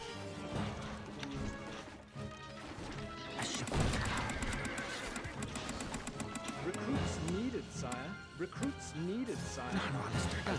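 Horse neighing in the video game Stronghold: Crusader, with whinnies and clip-clopping hooves over game music and sound effects, while voices speak in the game.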